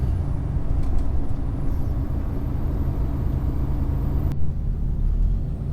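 A heavy truck hauling a loaded box on the road gives off a steady low rumbling drone with a faint whine above it, loud and continuous. One short sharp hiss comes partway through, like an air brake.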